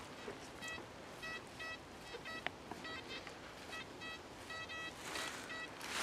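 Metal detector in a forest giving repeated short electronic beeps in an even rhythm as it sweeps over a target in a dug hole, over steady outdoor background hiss.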